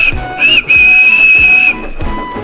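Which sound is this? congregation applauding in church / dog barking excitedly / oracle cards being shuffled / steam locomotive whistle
steam locomotive whistle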